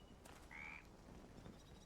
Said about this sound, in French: C'est juste des grenouilles, Hugo